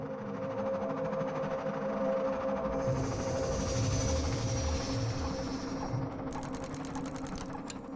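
A train rolls into Gare d'Austerlitz in Paris with a steady low mechanical rumble and drone, plus a sustained high whine in the middle and a rapid rattling flutter near the end.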